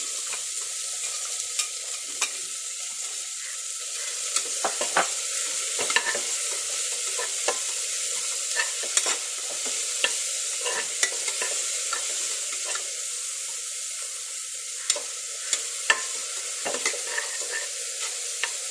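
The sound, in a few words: onion frying in hot oil with cinnamon, cloves, cumin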